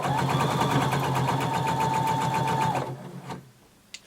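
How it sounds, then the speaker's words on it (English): A sewing machine runs steadily across the bottom seam of a bodice band at 5/8-inch allowance, a close, even mechanical whir with rapid stitching pulses that stops near the end, leaving a brief quiet click. "Now we're going to sew all across the bottom using 5/8 of an inch seam allowance."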